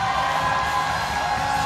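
An arena crowd roars and screams nonstop at the 2017 IWF Weightlifting World Championships during Sohrab Moradi's 233 kg clean and jerk world record attempt, a loud, dense wall of voices.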